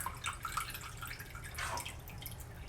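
Water trickling and dripping steadily, fairly quiet and close, with small splashes, as rice soaking water drains through a strainer.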